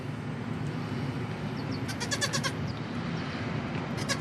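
A young goat bleats in short, quavering bursts over a steady low rumble, with a few bleats clustered in the middle and another near the end.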